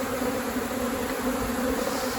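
Native honeybees from a large colony on Mallorca, Spain, buzz close by as a dense, steady drone with no voices.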